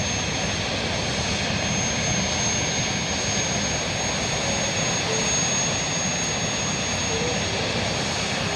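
Airbus A320 jet engines in the Transport Fever video game produce a loud, constant roar with a thin steady high whine on top, unbroken throughout.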